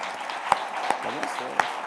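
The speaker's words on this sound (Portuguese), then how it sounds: "E vamos aplaudir Cristo." During a church celebration service, the congregation breaks into brief applause with a few sharp claps standing out, under a voice speaking over it.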